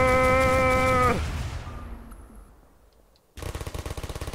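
Gunfire from bullets shot out of the player's own hand in the game Garry's Mod: a tonal sound fades into noise, then a loud, rapid burst of close, evenly pulsed shots closes the clip.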